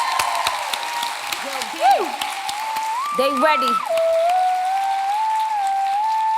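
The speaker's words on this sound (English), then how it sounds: "Please clap for her." Scattered audience applause and clapping sounds beneath a voice speaking and a sliding musical tone.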